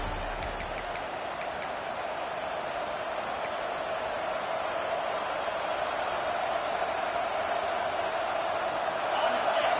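A broad, steady roar from a stadium crowd in an American football video game runs throughout, loud and continuous, with a play-by-play commentator talking over it.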